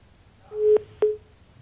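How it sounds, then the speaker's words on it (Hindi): Two short electronic telephone dial tones, one after the other, heard clearly and alone at a moderate level as a number is redialed after a dropped call. "फोन कट गया है, मैं दोबारा फोन लगा रहा हूं"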